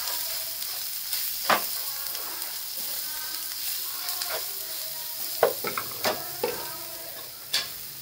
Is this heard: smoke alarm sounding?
no